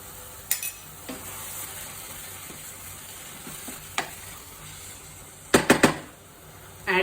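Ginger garlic paste sizzles in a pan for a methi paneer dish, a soft steady frying hiss broken by a few sharp clinks and scrapes of stirring, with a louder cluster of stirring knocks near the end.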